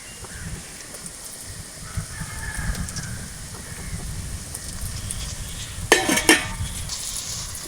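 Gulab jamun dough balls deep frying in hot oil, a steady close sizzle with gentle stirring and a few sharp metallic scrapes of a ladle near the end.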